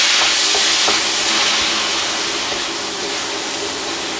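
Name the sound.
onions and garlic frying in a pan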